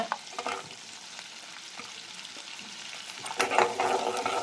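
Whole spices such as cinnamon and cashews sautéing in oil in a pan, a moderate crackling sizzle with scattered pops and stirring, growing a little louder toward the end.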